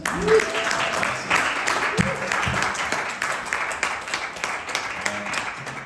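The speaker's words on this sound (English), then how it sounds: "Let's give a round of applause for Nidus." Church congregation applauding at a Samoan Assembly of God children's service, a sustained round of clapping that is moderately loud, with a few faint voices and brief tones mixed in beneath it.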